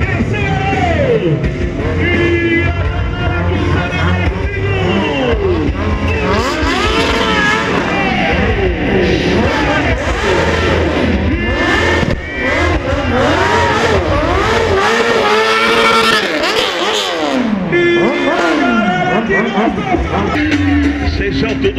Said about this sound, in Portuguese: Prepara agora para subir o giro do motor.